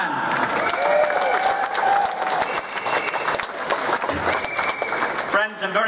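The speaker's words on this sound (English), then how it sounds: "Give him a big round of applause to David Cullinan." Crowd at an outdoor anti-NATO rally applauds a speaker, sustained dense clapping with some cheering and voices mixed in, cutting off abruptly at the end.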